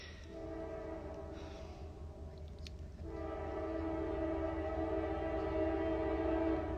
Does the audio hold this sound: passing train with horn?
yes